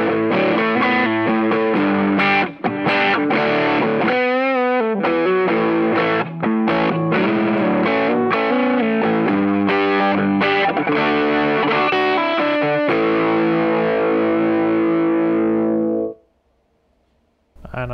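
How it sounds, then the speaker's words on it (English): Electric guitar run through two stacked Shiba overdrive pedals gives a thick, saturated, distorted tone with sustained chords and runs, played loud and steady for about sixteen seconds before it cuts off into near silence. "I can stack the 2 Shibas."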